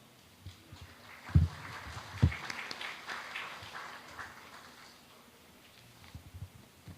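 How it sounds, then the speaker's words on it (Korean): Faint, scattered applause from a seminar audience at a Korean science and technology policy forum, with a few sharper claps early on over a low room hum, and no voices. "큰 박수 부탁드리겠습니다."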